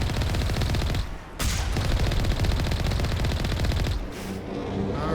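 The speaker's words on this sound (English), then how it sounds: "it's just shooting little small arms fire at us" Small arms gunfire from geth enemies in Mass Effect, rapid continuous bursts that are loud and dense, with two brief gaps before the shooting resumes.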